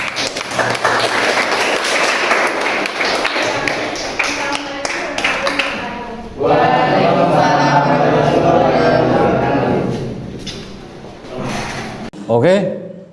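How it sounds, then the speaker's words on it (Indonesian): A vocational school class in a mechanical engineering lesson claps after a presentation, steady applause filling the room for several seconds, with voices speaking over and after it. "marilah beri tepuk tangan"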